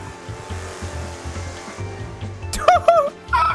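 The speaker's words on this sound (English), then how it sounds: "I hear a car." A low engine drone hums steadily, joined near the end by sharper tonal bursts, from a car driving in GTA 5.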